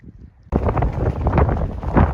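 After a brief quiet moment, loud gusty wind suddenly hits the microphone on a mountain ridge at the Crags of Andromeda, Western Arthurs, and keeps roaring steadily to the end.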